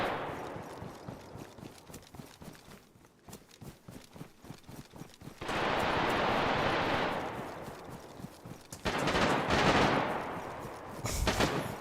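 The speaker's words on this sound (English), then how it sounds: "Hey, back-to-back shotguns." Shotgun blasts in the survival game DayZ fire in quick succession amid other clattering gunfire and footsteps, loud bursts alternating with quieter stretches.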